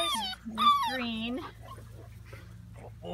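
Seven-week-old European basset hound puppies whimper and yip in high, rising whines, loudest in the first second and a half, then trailing off into soft whines and faint noises over a low hum, with human voices mixed in.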